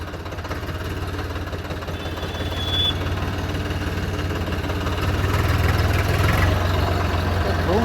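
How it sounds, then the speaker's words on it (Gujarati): A Swaraj 744 tractor engine runs steadily with a low throbbing drone, loud and close, swelling slightly toward the end, with no talk over it. "ચલો તો ભાઈ આપણે નીકળી ગયા હજી ટ્રેક્ટર લઈને."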